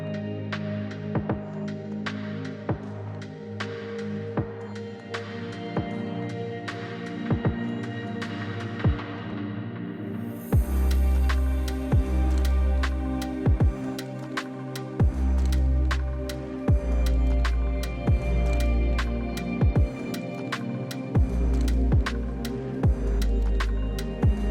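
A sewing machine runs a straight running stitch through fabric, the needle tapping in a steady, fast rhythm with a low motor hum that surges in bursts, close and clear with no talking.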